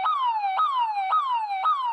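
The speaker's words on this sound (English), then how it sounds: "So if the floodwater gets high enough, the alarms and lights will start going off." Flood warning tower siren on a Central Texas river, a loud electronic wail repeating in fast, regular downward sweeps about twice a second, sounding alone and close.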